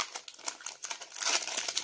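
A hockey card hobby pack wrapper being torn open, giving close, busy crinkling and crackling foil noise that grows denser toward the end.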